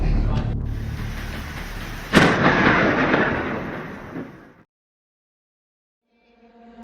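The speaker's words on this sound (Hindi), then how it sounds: "लगता है भयंकर तूफान आने वाला है।" Thunder from an approaching severe storm: a sharp crack breaks over a heavy, rolling rumble that slowly fades into silence.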